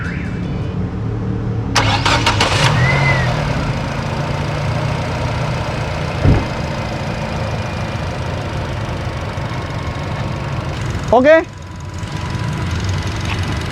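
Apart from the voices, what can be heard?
Nissan Latio sedan engine starting and idling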